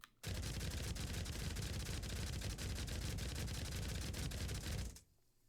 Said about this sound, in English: All you have to do is point the machine gun at the bad guy and shoot until they're dead.